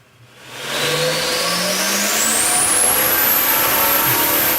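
A turbocharged car engine on a dyno revs up steadily, its pitch climbing loud and continuous with a rising whine and a steady roar throughout.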